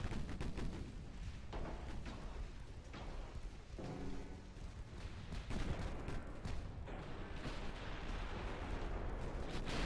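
Torpedo detonation aboard warships in the naval strategy game Ultimate Admiral Dreadnoughts, a dense, continuous rumble of heavy blasts and gunfire that holds loud for the whole stretch.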